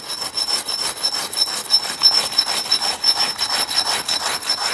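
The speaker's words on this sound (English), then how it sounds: "you can just basically rub the brick like this, and it essentially scratches off." A brick is rubbed against another brick to scratch off old mortar during chimney restoration, giving a close, rhythmic, gritty rasping of rapid back-and-forth strokes.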